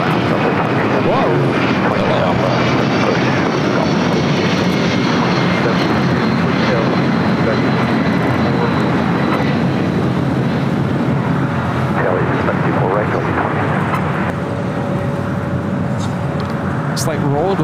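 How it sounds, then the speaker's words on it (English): A 21-year-old Delta Airlines Boeing 757-200 takes off at LAX with a loud, sustained jet-engine roar, while people talk throughout. "As Delta Airlines 631 taking off to Mexico City on a 21-year-old 757-200."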